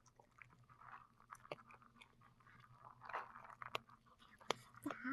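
Someone chews food during a summer car-camping trip in a Jeep Wrangler, with soft, close bites and faint crunches repeating over a quiet background.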